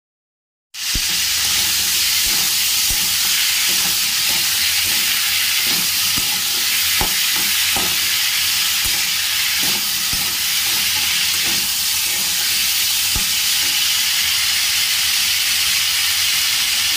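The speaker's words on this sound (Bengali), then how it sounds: "দেখো আমার আলুর তরকারিটা তো আমি নেড়ে নিচ্ছি," Potato curry frying in a pan while being stirred, a steady loud sizzle and hiss throughout with occasional scraping knocks from the spoon.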